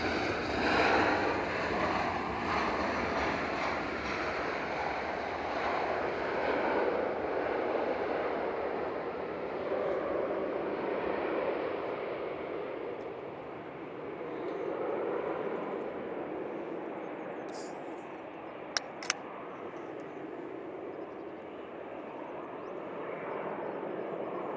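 An SAS Airbus A320neo arriving from Oslo at Manchester Airport, a broad, distant jet roar that swells and slowly fades against wind.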